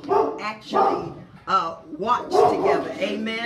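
A dog barks repeatedly and loudly close by, its rapid barks mixed in with someone talking over them.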